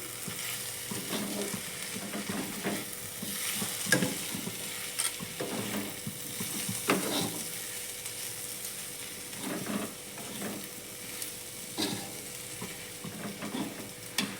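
A Bengali banana flower and prawn curry is stirred in a pan, repeated scraping strokes of a spatula over a steady sizzle, close and fairly loud throughout.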